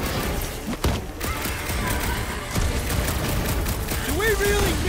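Gunfire in the Guardians of the Galaxy video game, bursts of shots and impacts crackling throughout a busy battle mix, with voices talking over the action.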